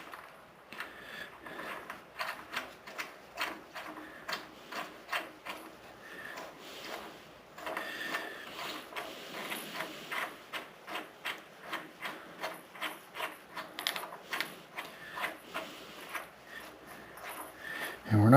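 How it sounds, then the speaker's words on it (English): A crankshaft sprocket going onto a Ford 460 engine makes a run of quiet, close, irregular metallic clicks and ratcheting ticks, alone with no talk. "go ahead and install the crankshaft sprocket"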